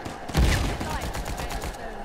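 SMG blind-fire shots in Uncharted 4 multiplayer, a quick run of loud close bursts followed by rapid lighter pops fading out, under a talking voice.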